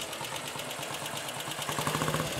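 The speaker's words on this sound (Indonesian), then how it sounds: "Jadi untuk menyalakan motor ini juga nggak terlalu PR." A 1954 BSA Gold Star Clubman motorcycle engine idling, a steady close thumping pulse with a firmer, more regular beat in the last second.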